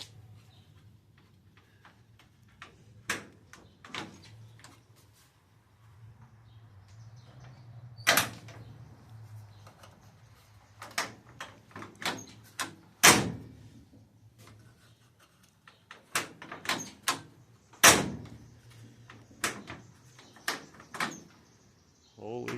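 A 1975 Volkswagen Super Beetle door being test-fitted after pillar welding, with scattered metallic clicks, taps and several sharp slams spread across a quiet workshop, loud and close.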